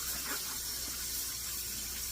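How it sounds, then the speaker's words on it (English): Tap water runs steadily over a cast iron pan being rinsed in a sink, a continuous close hiss and splash with no pauses. "Let's rinse it off, see what it looks like."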